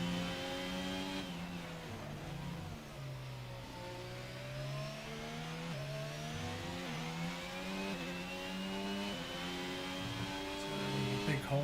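A racing car engine howls down the Bahrain GP main straight in a Schumacher series race, its high-pitched whine rising steadily through the gears with brief dips at the upshifts, loud and continuous throughout.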